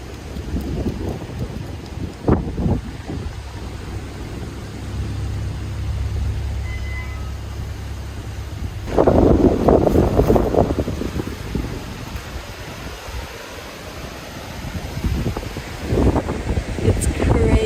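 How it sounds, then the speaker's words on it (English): Strong wind roars through trees around a night campsite, a steady broadband rush that surges louder midway, with low rumbling gusts buffeting the microphone throughout. "It's crazy out here. It's crazy windy."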